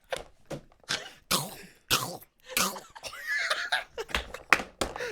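A voice imitates a Minecraft zombie's groan while attempting a Gollum impression, rough throaty bursts mixed with laughter and chatter from several people.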